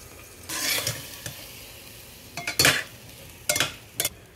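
Soaked basmati rice is gently stirred with mint and coriander in a pot for matar pulao with coconut milk, heard as short bursts of wet scraping and soft clatter with quiet sizzling between strokes.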